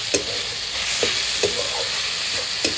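Fried potatoes are stirred into a pan of cooking mocha masala, a continuous loud sizzle punctuated by several sharp spatula scrapes and knocks at irregular intervals, close up and without talking.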